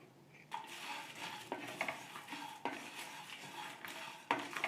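Whole spices such as cloves, star anise, cinnamon and cardamom dry roast in a pan, stirred with repeated scraping strokes and soft rattling against the metal, close and steady, without speech.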